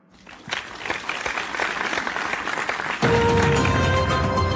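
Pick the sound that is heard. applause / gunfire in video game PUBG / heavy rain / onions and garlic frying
applause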